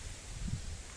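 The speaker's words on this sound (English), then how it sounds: "And I apologize for the wind." Wind gusts buffet the microphone outdoors beside a bald cypress planted in the ground, a steady close rumble and broadband rush for about a second.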